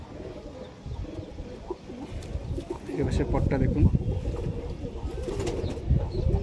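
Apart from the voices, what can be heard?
desi high flyer pigeons cooing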